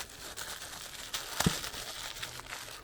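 Soft crinkling of a plastic bag, close and fairly quiet, with scattered rustles and one sharper crackle partway through.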